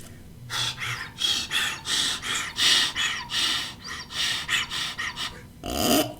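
A man imitates the heavy, rapid breathing of a whitetail buck trailing a doe as a deer call, producing a steady run of forceful, closely spaced breaths and snorts up close with no other talk.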